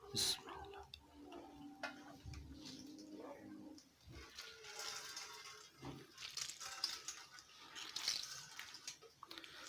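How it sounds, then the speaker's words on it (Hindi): Boiled radish (mooli) squeezed by hand to wring out its water while making a village-style bhujiya; soft wet squelches and trickling drips, faint and close, over low background noise. "अच्छी तरह से पानी निचोड़ना इनका, सारा पानी निकालना ऐसे।"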